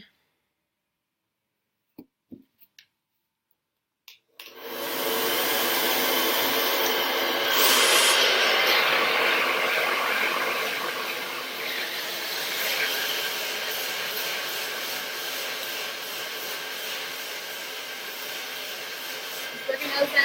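A hair dryer blows hair dry over a round brush. After a few faint knocks it switches on, giving a steady, loud, close whooshing roar that lasts about fifteen seconds with slight shifts in tone.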